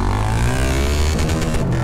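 Honda Sahara 300 motorcycle with a straight-pipe exhaust, ridden through the bush; a loud, raw, continuous engine roar fills the whole stretch with no talk over it.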